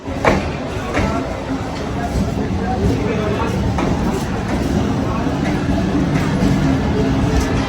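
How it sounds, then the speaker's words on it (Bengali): A local train rumbles into Ballygunge station amid a loud, crowded platform, with people talking close by throughout. "এখন ট্রেন সবে ঢুকছে।"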